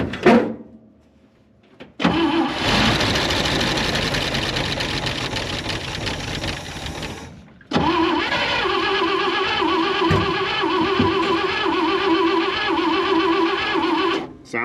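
An International Harvester Loadstar 4x4 truck engine cranks, catches and runs with a loud, steady roar, briefly dies, then restarts and keeps running at close range before cutting out again, with no talk over it.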